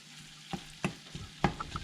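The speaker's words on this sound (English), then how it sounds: "Starting to sizzle." Meat browning in a hot pan while fideo pasta is prepared, with a steady low sizzle broken by several clanks of stirring, near and moderately loud.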